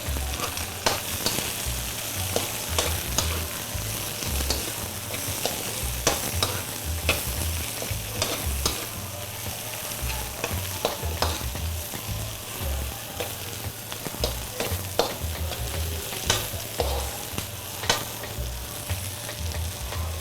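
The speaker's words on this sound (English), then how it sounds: "Okay, you stir some more." Vegetable lo mein frying and sizzling in a pan while being stirred, with steady sizzle throughout and repeated scraping, clacking strokes of the utensil in an irregular rhythm, close and moderately loud, no talking.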